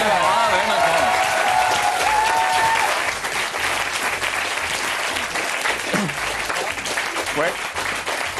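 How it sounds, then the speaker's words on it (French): A studio audience at a French variety show applauds loudly and steadily, dense clapping filling the whole stretch, with a voice speaking briefly over it early on. "Merci de les applaudir."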